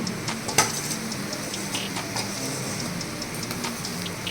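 A ginger and cumin paste hits onions and garlic frying in a pan, with a soft steady sizzle and light clinks of a spoon against the metal, one sharper knock early on.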